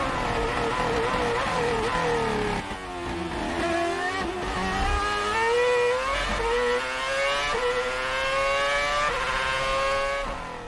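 A Red Bull RB7 Formula 1 car with a Renault 2.4-litre V8 engine screams at high revs, its raspy, rising pitch climbing through repeated gear changes with brief dips between upshifts, loud and continuous throughout.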